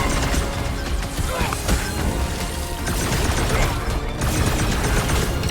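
Dense video-game combat gunfire from Marvel's Guardians of the Galaxy: continuous loud blasting and crashing with impacts layered over busy battle effects, steady throughout with no pauses.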